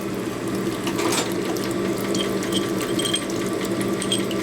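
Honing stone grinding inside the cylinder of a 1977 Harley-Davidson XLCR 1000cc Ironhead Sportster engine, a finer stone biting hard, giving a steady close-up scraping, whirring rasp with faint mechanical ticking throughout.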